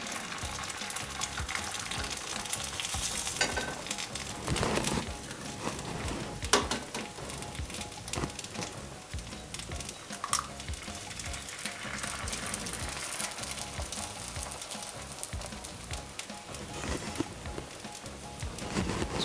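An egg fries in oil in a medium-hot pan for egg in a hole, a soft, continuous low sizzle with occasional faint pops and clinks, fairly quiet and without voices.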